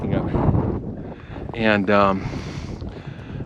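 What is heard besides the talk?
wind blowing on snowy mountain trail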